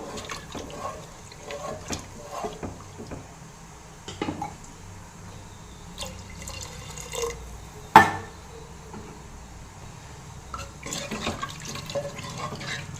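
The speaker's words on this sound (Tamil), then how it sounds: "இப்போ கொஞ்சம் தண்ணி சேர்த்துக்கலாங்க." Water is poured into a pot of hotel-style idli sambar as it cooks, heard as intermittent splashing and trickling bursts with quiet kitchen clatter between them.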